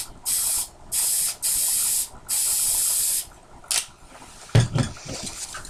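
Spray paint hissing from an aerosol can in several long bursts with short pauses, then a brief final spritz followed by a clatter, close and loud with no talking.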